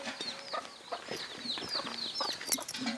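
Backyard chickens cluck and squawk in quick overlapping calls, moderately close, with busy scratchy background noise and no talking.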